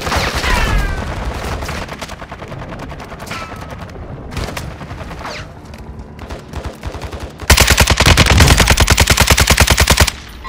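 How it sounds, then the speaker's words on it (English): Rapid automatic gunfire in the shooter game Call of Duty: Modern Warfare II Warzone, loud close bursts with scattered single shots, then a dense sustained burst near the end. "I'm taking fire!"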